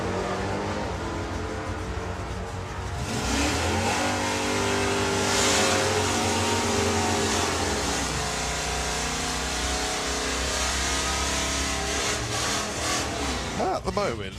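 Nostalgia drag racing cars launch and roar down the strip at an NSRA event, a loud sustained engine howl that swells and holds for the full stretch, with announcer talk running underneath.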